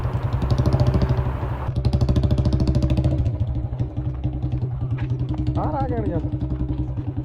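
A Royal Enfield Bullet motorcycle engine thumps steadily with a deep, rapid beat at close range in an open field at a fair, revving slightly, while people talk over it.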